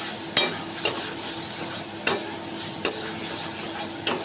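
Spice paste for rohu fish kalia is stirred and fried in a pan, with half a dozen sharp spoon scrapes and knocks at uneven intervals over a faint steady sizzle.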